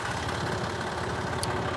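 A tractor engine idles steadily nearby, a continuous low rumbling drone with even vibration and no talking over it.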